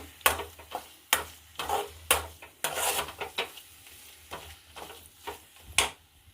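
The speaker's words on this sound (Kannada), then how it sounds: "ಮಿಕ್ಸಿ ಮಾಡಿದ್ದನ್ನ ಹಾಕ್ತಾ ಇದ್ದೀನಿ ಚೆನ್ನಾಗಿ ಒಂದತ್ತೆ ಅಂತ ಹೇಳಿ ಚೂರ್ ಮಿಕ್ಸ್ ಮಾಡ್ತೀನಿ" A ground raw mango paste is stirred into mango rice in a pan: sharp, close scrapes and knocks of a spoon against metal come at an irregular pace over a faint sizzle, with no talking.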